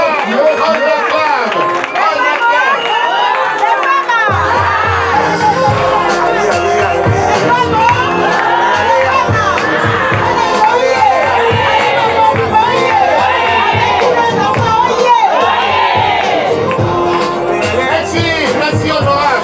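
A crowd at a DCP political rally cheers and acclaims a stand-in deputy, with loud shouting, whooping and mixed voices running continuously and densely throughout.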